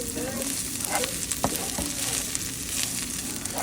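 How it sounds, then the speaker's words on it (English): Beef and broccoli stir-frying in a hot pan, a steady loud sizzle with a few sharp clicks and scrapes of stirring throughout. "we're going to stir it up a little bit, and then we're going to add the meat back in the pan"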